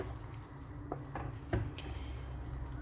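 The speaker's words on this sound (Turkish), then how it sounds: "şimdi biraz karıştırıyorum" Leeks, rice and water stirred in a pot for an olive-oil leek dish, soft wet scrapes and a few spoon knocks over a gentle simmer, close and steady.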